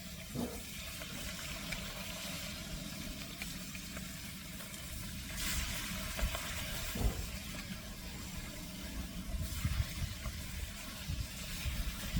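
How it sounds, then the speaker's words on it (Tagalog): Sardines frying in a pan outdoors on a balcony, a steady hiss and sizzle of hot oil running continuously at moderate level with small crackles and a few louder spurts. "At pipritoin ko siya dito sa labas kasi mangangamoy kami sa loob."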